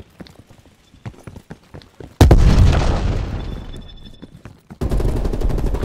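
A frag grenade detonates in Call of Duty: Black Ops Cold War team deathmatch on the Moscow map: faint scattered gunfire, then a sudden loud blast that rumbles and decays over a couple of seconds before another burst of heavy noise.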